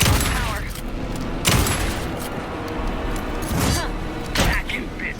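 Bursts of gunfire and heavy thuds ring out during a firefight in the video game Alan Wake 2, with several loud volleys spaced a second or two apart over a rumbling background and voices speaking in between.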